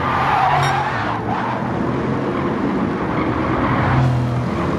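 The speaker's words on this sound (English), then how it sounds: "You can hear the tyres squealing as we go through turn 12" A race car engine drones in Gran Turismo 7 at Interlagos while tyres squeal sharply a couple of times through turns 12 and 13, with the car close and the sound loud and unbroken.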